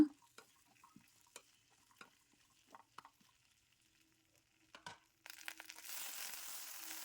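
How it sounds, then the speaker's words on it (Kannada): Okra hits hot oil in a pan, starting a loud, steady sizzle about two-thirds through, after a stretch of quiet scattered clicks and utensil taps. "ಬೆಂಡೆಕಾಯಿನ ಹಾಕ್ಕೊಳ್ತೇನೆ ಆ ಲೋಳೆ ಅಂಶ ಹೋಗೋವರೆಗೂ ಎಣ್ಣೆಯಲ್ಲಿ ಸ್ವಲ್ಪ ಫ್ರೈ ಮಾಡ್ಕೊಳ್ಳೋಣ"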